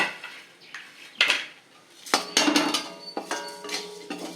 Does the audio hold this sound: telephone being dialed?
no